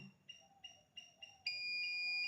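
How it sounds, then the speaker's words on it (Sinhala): Buzzer of a hobby magnet-sensitive alarm circuit on a 9-volt supply gives short repeated electronic beeps that then lock into a steady continuous tone, faint over low room noise. "ඔයගොල්ලන්ට පේනවා ඇති බසර් එක වදිනවා"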